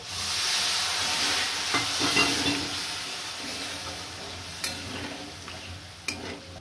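Egg curry gravy bubbling in a pan, a steady hissing simmer that eases slightly over time, with a few sharp clinks of a utensil near the end.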